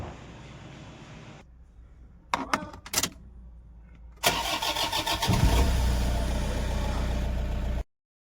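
A Toyota Innova in a workshop, fresh from an engine overhaul, cranks with a few short bursts, then catches and runs with a rising mid-pitched engine note that settles into a steady idle before cutting off abruptly.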